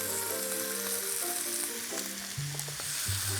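Drained canned peeled tomatoes sizzle in a hot pan for fish biryani, a steady bright hiss with faint tonal music running underneath, no speech.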